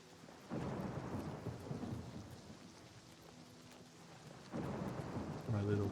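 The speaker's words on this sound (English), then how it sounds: "It's nighttime and it's raining." Rain and thunder at night in the video game Oblivion Remastered: a continuous wash of falling rain with deep thunder rumbles swelling near the start and again at the end.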